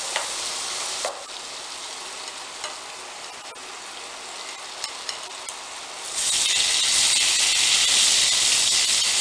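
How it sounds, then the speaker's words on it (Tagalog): Tofu frying crisp in hot oil, a steady close sizzle that grows noticeably louder and brighter in the final few seconds, with no talking. "i-crispy fry lang natin yung ating tofu"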